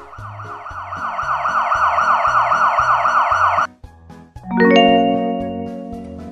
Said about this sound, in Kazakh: Вау, мынау полиция көлігі ғой.